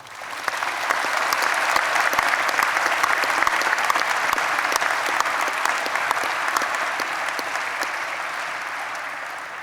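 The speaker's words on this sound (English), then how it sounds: "I think you all deserve a round of applause from the students" Students at a university graduation ceremony give a long round of applause, crisp dense clapping swelling in after a second and holding steady, fairly loud and close, then tapering a little near the end.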